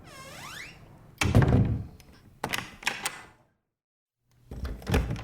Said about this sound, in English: The men closed the double doors